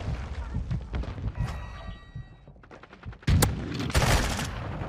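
Gunfire in the video game Call of Duty Modern Warfare II, with rapid bursts of shots and sharp cracks, loud and close, punctuated by a heavier blast near the end, with little speech.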